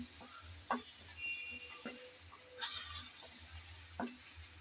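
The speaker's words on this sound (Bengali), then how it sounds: "এভাবে কিন্তু বারবার নেড়েচেড়ে কষাতে কষাতেই রেডি হয়ে যাবে আজকের মজাদার আচারি বেগুন" Spiced pickle-style eggplant fried in a pan gives a soft, low sizzle broken by intermittent scraping stirs every second or so, fairly quiet, with no talking.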